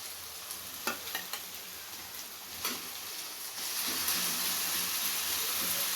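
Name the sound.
garlic and green chilies frying in a pan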